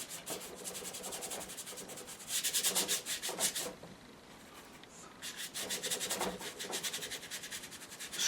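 A brush scrubs acrylic paint onto canvas in a close, steady rhythm of dry, raspy rubbing strokes that come in bursts with short pauses between them, with no talking.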